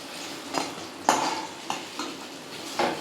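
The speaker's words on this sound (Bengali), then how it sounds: "দেখুন আমার বেগুনগুলো লাল করে ভাজা হয়ে গেছে এবার আমি তুলে নেব ওই বেগুনগুলোকে" Fried eggplants being lifted out of a pan, with several sharp metal clinks of a utensil against the cookware spaced irregularly over a faint background sizzle.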